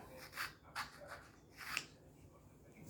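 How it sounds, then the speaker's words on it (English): A carbide-tipped V groover scrapes along the grooves of a golf iron, giving a few faint, short rasping strokes at irregular intervals. Each stroke fades quickly into quiet. "This is a carbide tip V groover."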